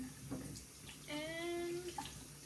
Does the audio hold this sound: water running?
yes